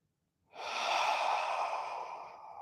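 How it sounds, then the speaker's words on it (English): A single slow, deep breath, starting after a short silence, swelling into a long airy rush and then gradually fading, close and soft with no talking. "Each inhale and exhale."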